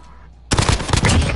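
Modern Warfare video game gunfire, a sudden loud burst of rapid close shots erupting after half a second of quiet and continuing to the end.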